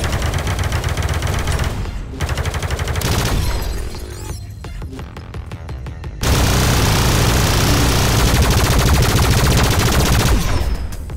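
Dense, loud bursts of rapid gunfire and crashing impacts from the arcade shooter video game Space Pirate Trainer, with a brief lull mid-clip before a sustained, heavier barrage.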